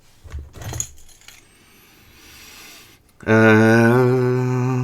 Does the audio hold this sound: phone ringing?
no